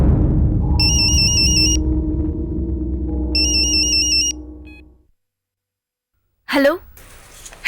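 A telephone rings on an outgoing call to India, two bursts of electronic ringing over a low rumble, followed by silence and then a brief voice.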